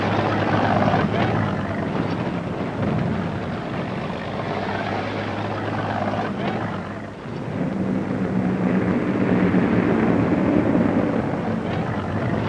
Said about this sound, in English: Nazi planes with machine guns spitting.